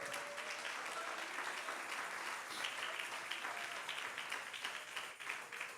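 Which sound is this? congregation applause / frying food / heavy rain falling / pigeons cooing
congregation applause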